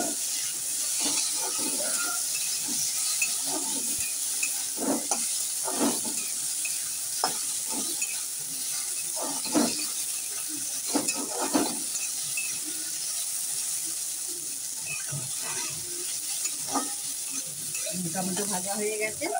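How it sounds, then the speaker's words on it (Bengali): Tomato frying in a pan with chilli, ginger and bay leaf sizzles and hisses steadily, while repeated scrapes and clacks of stirring break through at irregular intervals. "টমেটোটা ভেজে নিই"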